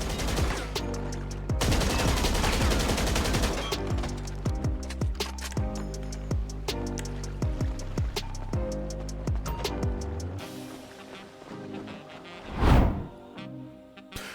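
Heavy gunfire in a GTA 5 firefight aboard a superyacht: dense, rapid bursts of automatic fire and loud shots for about ten seconds, then sparser scattered shots and a single big boom near the end, with no talking.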